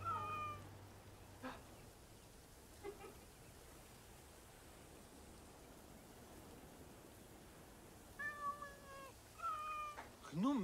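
Cats meowing in Assassin's Creed Origins, a few short meows near the start and mid-clip, then a cluster of louder, closer meows at the end over a steady low ambient bed.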